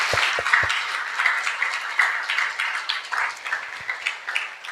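Audience clapping fills a church, a steady ripple of many hands applauding with a few sharper claps standing out, moderately loud.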